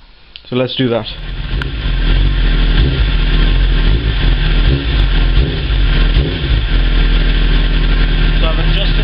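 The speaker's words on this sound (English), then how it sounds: "it's just a case of starting the bike and running it and adjusting the idle" A Suzuki GSXR 600 SRAD motorcycle engine cranks and catches, then settles into a loud, steady idle close by; a person speaks briefly over the start.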